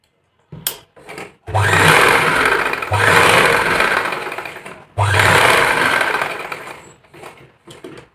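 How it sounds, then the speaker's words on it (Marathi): A sewing machine stitches along the fold of a blouse in loud, steady bursts, running in three long whirring passes separated by brief pauses, with small handling clicks between. "ब्लाऊज सरळ बाजूने पलटवून आणखी या फोल्डिंगला आणखी एक स्टिच एक एक मारून घ्यायची"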